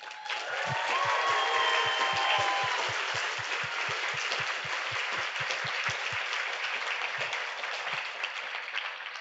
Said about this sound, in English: Please join me in applauding our new members.